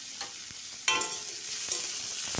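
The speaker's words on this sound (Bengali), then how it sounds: "এটা একটু লাল করে ভেজে নেব পেঁয়াজটা" Chopped onion frying with mustard seeds in a little oil in a kadai, a steady close sizzle with a few sharp crackles and stirring scrapes, no voices.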